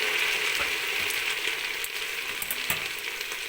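Potato and capsicum pieces fry in a pan with a dense, continuous sizzle, close and steady, with faint stirring scrapes and no talking.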